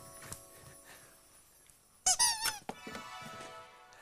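Squeaky dog toy bones squeezed in a quick burst of several loud, high squeaks after a quiet stretch, followed by a few softer squeaks and handling rustles.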